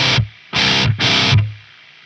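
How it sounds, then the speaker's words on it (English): Electric guitar through a distortion pedal in an amp's effects loop, three loud saturated chord bursts, each sustained roughly half a second with abrupt cutoffs between them, close and alone. "And if you start adding in distortion,"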